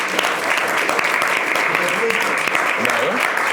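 Studio audience on a French television talk show applauds steadily and loudly throughout, with a voice speaking briefly underneath the clapping.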